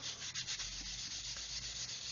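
Quiet, continuous scratchy rubbing as abrasive works away a seam on a plastic Revell 1/144 Apollo Saturn V model kit, with short repeated strokes and no talk.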